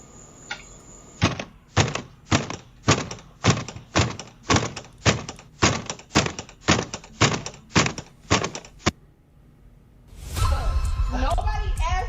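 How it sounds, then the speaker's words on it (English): A door is banged on in a rapid run of about fifteen loud, close thumps, evenly spaced, then a pause before muffled voices and rustling noise take over. "So, who finna bang on the door first?"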